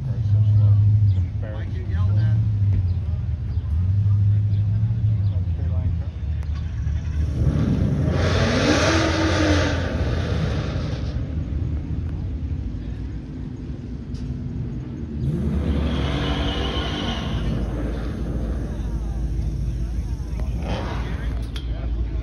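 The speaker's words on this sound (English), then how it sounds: "Got the 21 Mach 1. Got it out, taking it for a little spin." A 2021 Ford Mustang Mach 1 rumbles at steady cruise, then surges through two loud revving accelerations, engine sound swelling close and strong while driving.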